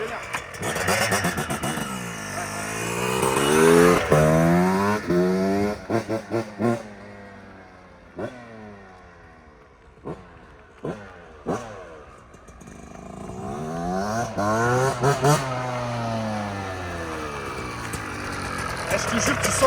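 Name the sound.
new 2023 Yamaha YZ 125 two-stroke motocross bike being ridden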